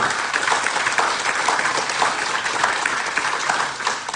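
Loud, dense applause from a church congregation, steady and continuous for a few seconds without any speech over it.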